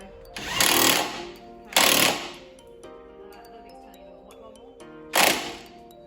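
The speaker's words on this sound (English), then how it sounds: "So it's now just to tighten up the screws again." Power tool driving screws on a VW Lupo GTi's rear shock absorbers, three short loud rattling impact bursts separated by pauses, with quiet workshop sounds in between.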